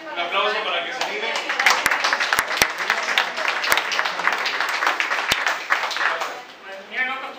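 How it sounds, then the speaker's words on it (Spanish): At a religious gathering, an audience claps in a scattered, uneven burst with a few sharp, close hand strikes standing out, while people talk over it throughout. "Un aplauso para que se vive"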